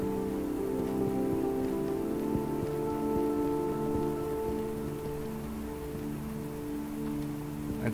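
Continuous rainfall hisses and patters evenly over a surface, accompanied by a sustained low droning tone underneath, in the video game Hobo: Tough Life.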